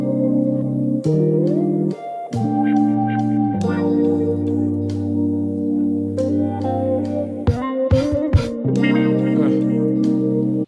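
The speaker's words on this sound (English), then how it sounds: "I pretty much just completely chopped up that percussion loop because we're in 3/4." Chopped-up percussion loop in 3/4 time within an R&B sample, layered over sustained tonal chords, with abrupt cuts and stuttering edits breaking the flow near the middle and end.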